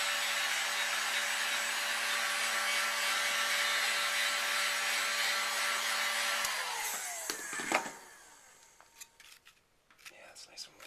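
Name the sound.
heat gun warming a rubber Glock 21 grip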